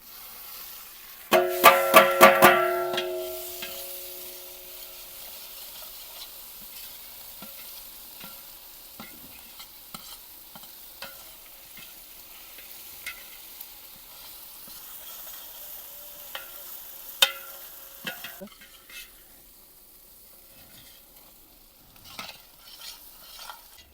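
Ginger, garlic and chili paste hits hot oil with onions in a village cooking pot, a loud burst of sizzling and stirring at first that settles into a quieter, steady fry with occasional clinks.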